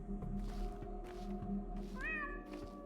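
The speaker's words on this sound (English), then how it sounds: "if I hear a cat meow, I have to meow back" A cat meows in the video game Pathologic 2, one clear rising-and-falling meow near the end over a steady low ambient game hum.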